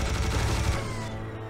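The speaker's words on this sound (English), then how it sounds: "I'm gonna use a somewhat more powerful weapon to take up these units more quickly. Like a chain gun." Chain gun fire in Serious Sam, a dense and loud rapid burst of shots that stops about halfway, leaving a fading ringing tail.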